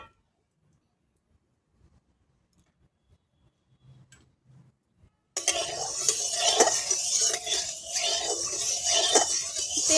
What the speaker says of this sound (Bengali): কড়াই গরম হয়ে গেছে, এবার কিন্তু আমি সরষের তেল দিয়ে দিচ্ছি।